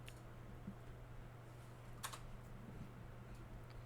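Steady typing on a computer keyboard, a faint continuous patter of key clicks with one sharper tap, heard alone over a low background hum.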